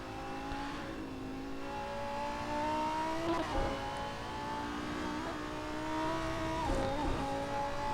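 GT3 race car engines in a virtual racing game at Virginia International Raceway, steady droning engine tones rising and shifting in pitch as cars accelerate, with brief bursts around gear changes, moderately loud and continuous.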